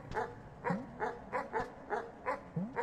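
A dog in the video game Animal Well barks in a steady run of about eight short, sharp yips roughly every third of a second, quiet and evenly spaced with no talk over them.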